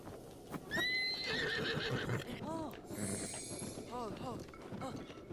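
A horse in the video game Breath of the Wild gives a loud, bright whinny near the start, then keeps snorting and neighing over steady clip-clopping hooves across the rest of the stretch.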